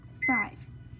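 A single short electronic beep from a button press while setting a kitchen timer, a brief tonal chirp standing out over quiet room noise.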